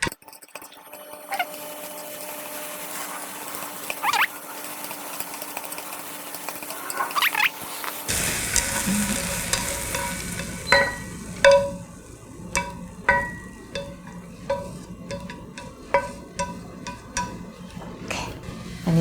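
Beef topping for Korean rice cake soup frying in a pan, a quiet stretch giving way to crackling sizzle and scattered sharp pops and stirring clicks, close by.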